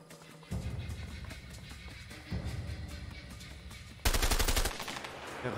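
Gunfire in the video game A Way Out, with loud bursts of rapid automatic shots arriving in three separate volleys, the last one the sharpest and most intense.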